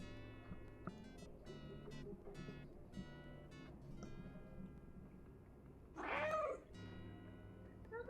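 A voice imitates a cat, giving a sharp, rising meow partway through over a busy, murmuring background.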